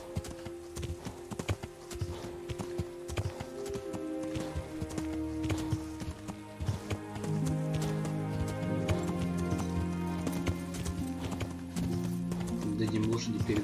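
Horse hooves clip-clop steadily in Kingdom Come Deliverance, a rhythmic trot close by with a neigh mixed in, under someone talking and tonal game music.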